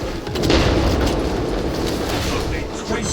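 A crack grenade going off in the video game Space Marine 2, heard as a loud, sustained, rumbling boom that swells early and rolls on heavily throughout.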